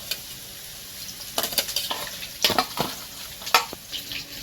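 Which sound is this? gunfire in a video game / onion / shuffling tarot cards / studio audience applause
onion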